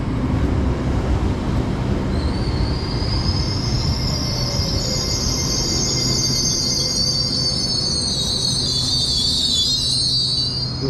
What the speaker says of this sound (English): arriving is the 1706 Transpennine Express service to Newcastle